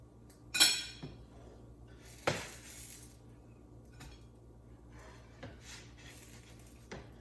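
Metal pans and utensils clink on a stove while three-ingredient pancakes are lifted off: a handful of sharp, scattered knocks and clatters, spaced a second or two apart, over quiet kitchen background.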